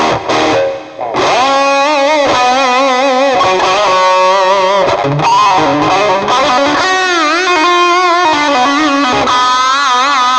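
Electric guitar through a Cuvave Cube Baby amp with reverb and distortion, played as a run of sustained, bending lead notes and short phrases, loud and close with a lingering wash between notes.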